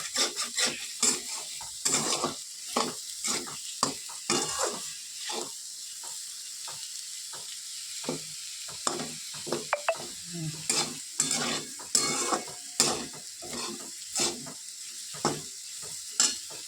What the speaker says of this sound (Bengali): চলো ততক্ষণে আলু ভাজাটা একটু হোক, তারপরে নামাবো